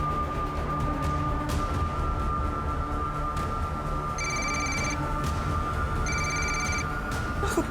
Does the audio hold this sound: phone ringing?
yes